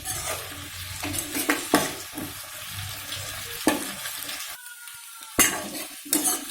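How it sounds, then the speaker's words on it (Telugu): Tomatoes fry on high heat in oil in a pan for a village-style green chilli chutney, with a steady sizzle broken by repeated scraping and stirring clatters of a utensil against the pan. "టమాటాలు వేగనిస్తాం బాగా."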